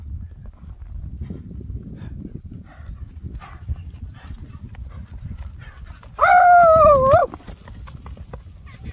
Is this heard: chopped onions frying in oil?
no